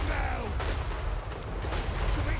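Dwarf flame cannons firing in Total War: Warhammer 3, a thick, continuous rumbling barrage of booms and crackling fire, steady and loud throughout.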